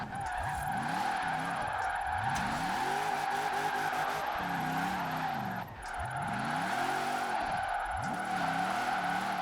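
A Formula Drift car in Forza Horizon 4 sweeps through drifts, its engine revving up and down in repeated rising and falling arcs under continuous loud tyre squeal, steady and close throughout.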